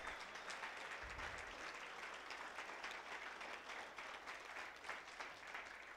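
Audience applause at a 2020 conference, steady dense clapping from a crowd filling the hall, even in level throughout with no voices over it.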